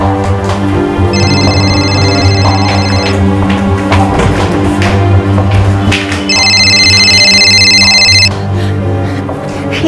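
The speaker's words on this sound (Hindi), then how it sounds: "ये फोन किसका बज रहा है?" A mobile phone left behind in a bathroom rings in two bursts of bright electronic tone, loud and close, with steady music or background noise running underneath throughout.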